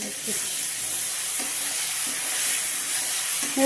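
Tomato masala being stir-fried in a pan: a steady, close sizzle and hiss of frying, with faint scrapes of stirring and no talk.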